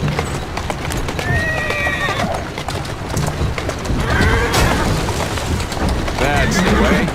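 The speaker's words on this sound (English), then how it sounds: "Who's a good horse?" A horse in the Assassin's Creed Syndicate video game trots with steady clip-clop hoofbeats and gives several loud whinnies, while a person talks over it.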